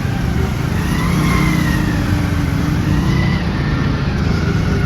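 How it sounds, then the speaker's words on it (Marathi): Busy road traffic in Pune on a cold evening, with car and motorbike engines droning and revving close by in a steady, dense wash of noise. "बापरे, ट्रॅफिक."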